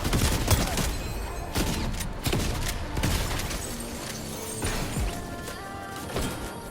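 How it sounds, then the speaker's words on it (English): Repeated shotgun blasts and sharp impacts ring out in a battle royale video game firefight, loud bursts spaced irregularly over steady game noise and clatter. "I start getting aimed at from the side, so I sidestep, pull out the shotgun. Bang, knocked."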